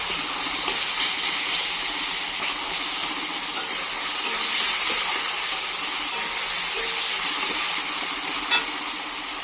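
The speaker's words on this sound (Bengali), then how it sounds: "তো এবার আমি এর মধ্যে আদা রসুনটা দিয়ে দেবো" Ginger-garlic paste fries with onion and green chillies in a pan for an egg curry, making a constant loud hissing sizzle with a few faint clinks of stirring.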